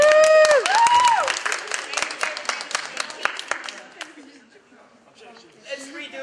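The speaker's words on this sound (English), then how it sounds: "Applause for this guy." Convention crowd applauding, a burst of clapping that thins out into scattered claps and fades, heard alongside music and voices at the start and talk toward the end.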